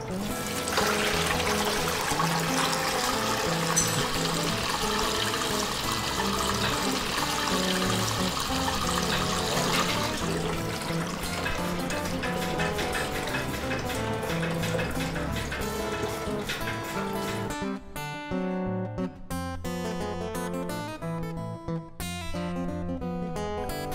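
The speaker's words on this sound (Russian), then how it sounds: "Первое, что нужно сделать, это слить с двигателя масло с водой." Oil and water pour out of a flooded Honda BF25 four-stroke outboard motor in a steady trickling stream, continuous and fairly close, with no talking.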